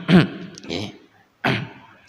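During a Friday morning Islamic study lecture, a man demonstrates a throat clearing: a sharp vocal 'ahem' burst, a softer follow-up, a pause, then another gravelly throat clearing up close.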